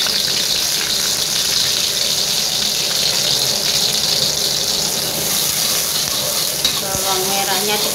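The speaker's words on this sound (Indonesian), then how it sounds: "Sudah panas, masukkan bawang merah." Sliced shallots drop into hot oil and fry with a loud, dense, steady sizzle and crackle that fills the whole stretch, close up and without talk.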